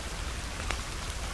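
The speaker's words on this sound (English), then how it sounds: "that rain's gonna put out our bonfire, isn't it?" Steady rain falls in the survival video game The Forest, a dense, even hiss of drops on surfaces with a faint single tap midway, constant and close with no voices.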